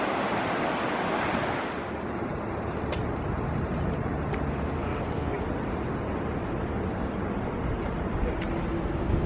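Ocean surf washes steadily onto the beach at Newport, Oregon, a loud, constant roar of breaking waves with wind buffeting the microphone.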